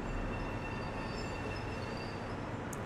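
A Long Island Rail Road train in Train Sim World 2 rolls slowly toward a stop, a steady low rumble with faint high wheel or brake tones.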